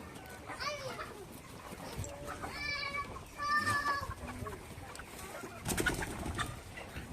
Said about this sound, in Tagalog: Kasama na po yung manok kumakain rin.